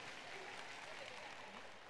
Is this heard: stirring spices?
no